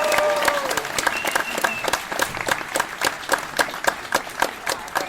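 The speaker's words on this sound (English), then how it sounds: "Everybody, round of applause." Audience applause at a Tidewater Comic Con panel, a crowd clapping with sharp, regular claps standing out near the front and a few faint voices mixed in.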